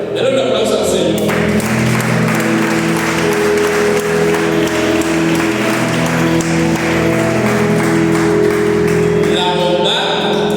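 A church congregation applauds during a sermon, with dense, sustained clapping over sustained music, steady and loud throughout.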